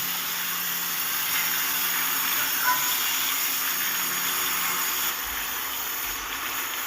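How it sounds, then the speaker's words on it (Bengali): Partly boiled potatoes are stir-fried in a pan for a winter fish curry, giving a steady loud hiss and sizzle that eases slightly near the end, with no talking. "এবার একটু নেড়ে চেড়ে ভেজে নেবো"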